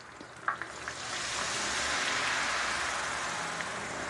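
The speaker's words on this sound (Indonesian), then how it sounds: "Goreng sampai garing" Flour-coated tofu deep-frying in hot oil, a loud, steady crackling sizzle that swells after a couple of small pops and holds evenly with no talk.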